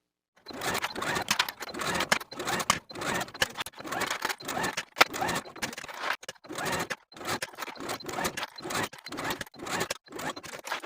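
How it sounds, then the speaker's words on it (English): A sewing machine runs long basting stitches around the leg holes, armholes and neckline of a reversible swimsuit, in short bursts of rapid mechanical whirring separated by brief pauses. "using the longest stitch, I'm going to sew the leg holes, the armholes, and the neckline opening within the seam allowance"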